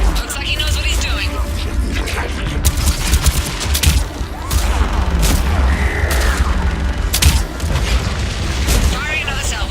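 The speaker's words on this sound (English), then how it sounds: "Firing another salvo." Missile salvo firing in a Mass Effect video game battle, a dense barrage of booms and blasts rolling continuously and loudly, with voices talking over the din.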